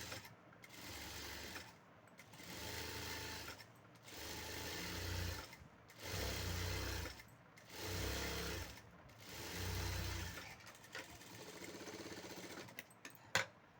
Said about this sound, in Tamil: டபுள் தையல் வந்து பார்த்திங்கன்னா நான் இதில் போட்டுக்கிறேன்